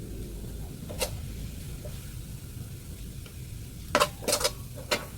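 Garlic browns in a pan while being sautéed, with a steady low sizzle and a few sharp scraping stirs of a utensil, clustered near the end.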